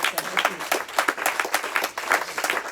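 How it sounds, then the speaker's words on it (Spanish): A church congregation claps together in a quick, steady rhythm, the applause close and lively for a few seconds. "No sé si damos un aplauso al Señor Jesucristo"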